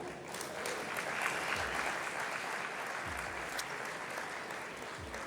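Sustained applause from a conference audience, many hands clapping steadily and densely for several seconds without letting up.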